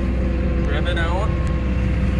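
A truck engine revs with its PTO engaged, a loud steady low rumble running throughout with a brief rising whine in the middle, as a person talks over it.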